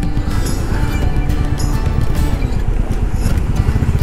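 A Royal Enfield Classic 350 motorcycle rides along a highway bike lane near a toll gate, its steady engine drone and rumbling wind noise loud and continuous throughout.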